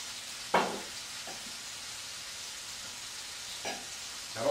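Shrimp frying in a hot pan, a steady soft sizzle with a few sharper crackling bursts, close and moderately quiet, no talking.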